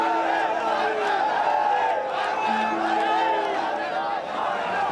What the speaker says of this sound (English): Ecstatic crowds of BJP supporters started to celebrate the election win before it was official.